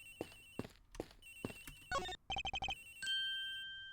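A cell phone rings in the Ace Attorney Investigations video game, a close, electronic tune of sharp chiming notes, then a fast run of beeps and a steady held tone.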